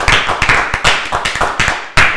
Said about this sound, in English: So we have to give you a hand clap for that.